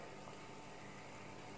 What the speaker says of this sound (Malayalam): ശർക്കര നല്ലപോലെ തിളച്ച് വരുന്നുണ്ട്.